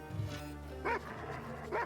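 A short cartoonish dog bark plays as a card effect in the Gwent digital card game, with two quick bursts over a steady musical background.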